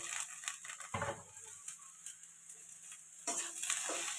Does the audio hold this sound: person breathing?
no